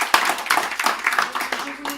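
A small group claps at an art exhibition opening, brisk and close, with voices talking over the clapping.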